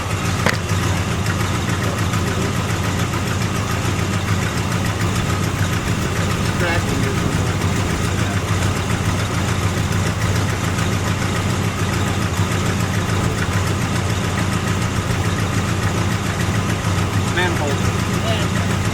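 A 1974 Dodge engine idling after a cold start, a loud steady rumble throughout with slight roughness, and voices speaking over it.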